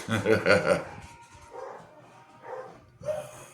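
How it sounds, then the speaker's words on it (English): Several dogs bark in short bursts, a little distant, while a person talks quietly nearby between the barks. "The other dogs are barking."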